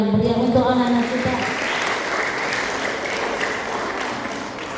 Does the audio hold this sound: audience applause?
yes